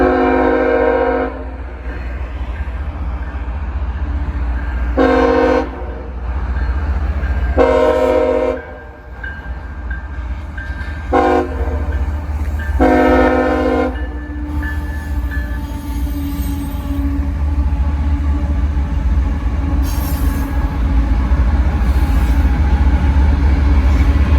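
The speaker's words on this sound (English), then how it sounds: "we got a train coming through" A train led by the Monon Heritage Unit locomotive rumbles steadily past a motel at night while its horn blasts several times in long and short bursts, loud and near, with rolling wheel noise throughout.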